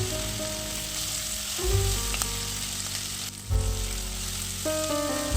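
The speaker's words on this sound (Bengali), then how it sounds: "তো এরপর সব গোটা মশলাগুলো কিছুক্ষণ ভেজে নেব।" Whole spices, including cloves and black peppercorns, fry in a pan with a constant close sizzle, punctuated by faint clinks and stirring scrapes.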